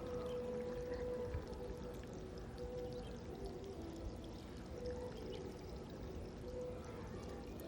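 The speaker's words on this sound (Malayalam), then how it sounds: "ഇനി നമുക്ക് അതിലേക്ക് വെള്ളം നിറയ്ക്കാം" Water pours steadily into a pot prepared for planting a lotus tuber, a continuous gurgling splash that runs close and fairly even for the whole stretch.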